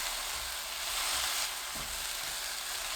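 Cabbage and fish cake stir-frying in a pan with soy sauce, mirin and grain syrup, a steady broadband sizzle with a faint low scrape of stirring midway, continuous and close, no talking.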